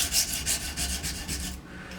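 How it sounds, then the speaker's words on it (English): A knife blade is drawn over an abrasive stone on an Edgewright sharpening system in quick, even rubbing strokes, about seven gritty swipes in a close, steady rhythm before stopping. "Still working on the first side, trying to bring up a burr for the length of the knife."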